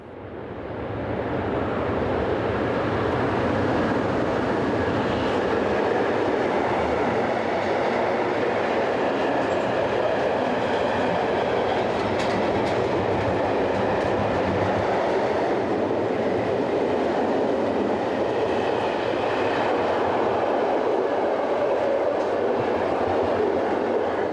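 An electrically hauled freight train passes in Luxembourg, a loud continuous rumble of wagons rolling by close at hand for the whole stretch, with steady wheel noise and no voices.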